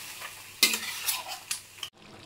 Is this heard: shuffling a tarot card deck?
no